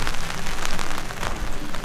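Steady rain falls at a wet campsite during a 4x4 camping trip, a dense, continuous hiss of drops pattering on nearby surfaces with no break, close and fairly loud, and nobody speaking.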